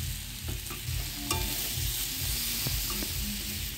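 Potatoes stirred and fried in a pan with turmeric, cumin, coriander and chilli for an egg curry, a steady close sizzle broken by several scraping stirs, with no talking.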